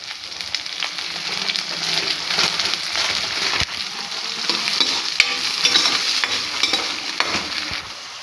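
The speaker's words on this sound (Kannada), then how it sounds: "ಇವೆಲ್ಲ ಗೋಲ್ಡನ್ ಕಲರ್ ಬರೋವರೆಗೂ ಫ್ರೈ ಮಾಡಬೇಕು" Onions, green chilies and tomato fry in hot oil, a steady close sizzle with stirring scrapes throughout and no talking.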